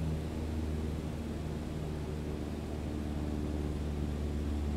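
Steady, even drone of a Cessna 152 light aircraft engine at reduced throttle in cruise, a continuous low hum with broad airy noise, unbroken and fairly loud for the whole stretch.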